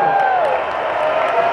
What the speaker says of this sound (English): give yourselves a round of applause for surviving this battle